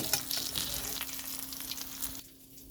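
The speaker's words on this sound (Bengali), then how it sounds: "আগের থেকে নুন হলুদ মেখে মাছটাকে ভাজতে দিয়েছি" Catla fish, rubbed with salt and turmeric, sizzles and crackles steadily in oil in a pan, fairly quiet and close, with a constant low hum underneath that cuts out near the end.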